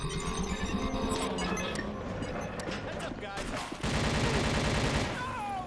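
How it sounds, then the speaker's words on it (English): Enemy soldiers firing at the player in the shooter video game TimeShift, dense sustained bursts of rapid gunfire and clattering mechanisms mixed with game music and effects, a louder volley near the end. "they are shooting at me"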